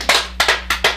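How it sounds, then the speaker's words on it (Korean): Sharp, close hand claps ring out during a Buddhist monk's Diamond Sutra lecture, about five or six distinct slaps in an uneven rhythm over a low steady hum. "박수 한번 치세요"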